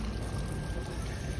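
Water from a tap pours steadily over an air conditioner filter as it is rinsed, a continuous close splashing wash with no talk.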